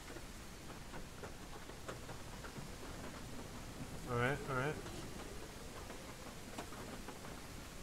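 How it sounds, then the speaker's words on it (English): Rain falls in a zombie survival video game as a soft, constant patter with scattered ticking drops, fairly faint, while someone briefly speaks over it. "And it's raining."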